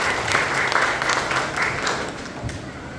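Church congregation at a Christmas service applauding for the pastor, a loud, dense burst of clapping filling the hall for a few seconds with a faint voice underneath.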